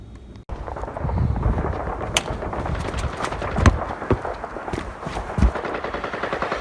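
Battle sound effects in a war news skit: rumbling artillery and scattered gunshot cracks over a low windy roar, with sharper bursts standing out now and then.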